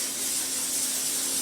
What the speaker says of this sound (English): We'll get this pan all sprayed up